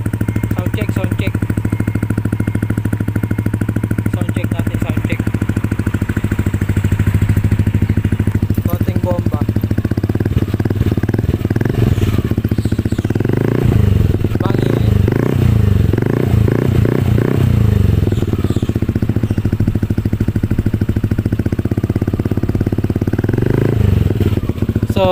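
A Yamaha Aerox scooter fitted with a Belaine exhaust pipe idles with a steady, loud low rumble, then is revved in a burst of throaty surges mid-clip before settling back to idle, with people talking over it.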